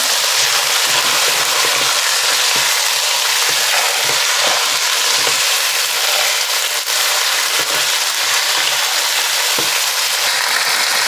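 Steady loud sizzling of carrot and beetroot frying in a pan for vegetarian feijoada, with a continuous hiss and occasional soft scraping clicks of stirring close by.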